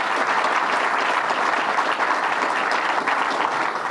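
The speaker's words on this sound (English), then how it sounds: "Let's give them a round of applause." Steady, dense audience applause for two state representatives at a New York governor's public announcement, sustained and even in loudness throughout, with no voices over it.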